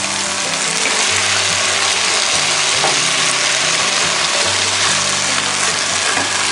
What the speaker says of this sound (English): now we're just going to go ahead and dump in our turkey